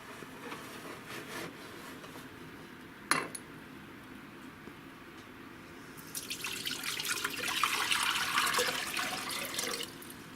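Six cups of water poured into a crock pot for a hot spiced cranberry drink, a brief clunk followed by a steady splashing pour that builds and then stops near the end.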